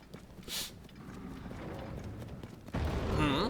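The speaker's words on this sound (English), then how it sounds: "Loud footsteps." Heavy in-game footsteps from Tears of the Kingdom thud steadily, like a large creature or hooves approaching, with a sharp burst near the start and a louder rush of sound toward the end.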